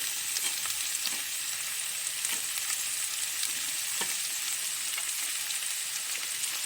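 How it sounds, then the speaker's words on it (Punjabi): Finely chopped onions fry with garlic and ginger in a pan, making a continuous, even sizzle with faint stirring clicks. It is close and steady with no voices. "ਹੁਣ ਪਾਵਾਂਗੇ ਪਿਆਜ਼ ਜਿਹੜੇ ਮੈਂ ਚੌਪ ਕੀਤੇ ਹੋਏ ਨੇ ਬਰੀਕ ਬਰੀਕ"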